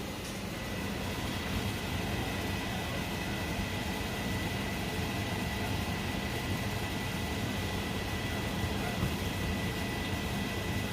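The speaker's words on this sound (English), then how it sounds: "But I just put a little bit of flour in it. See if it sizzles." Flour dropped into hot frying oil for fry bread sizzles with a steady, even, hissing crackle that holds at a constant level throughout.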